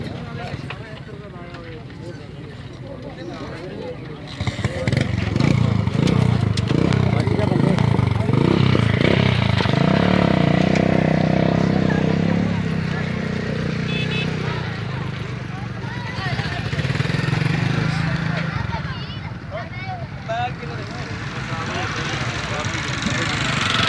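A vehicle engine hums and grows louder as it draws nearer at a moderate pace, with people talking over the rumble.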